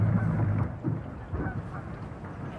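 Geese on a pond along the Chesapeake honk in a dense, overlapping chorus of nasal calls, fairly close and continuous, with no speech.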